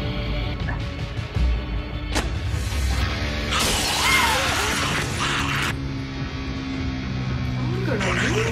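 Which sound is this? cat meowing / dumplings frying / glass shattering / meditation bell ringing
glass shattering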